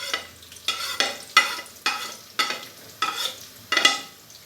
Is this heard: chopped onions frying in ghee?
yes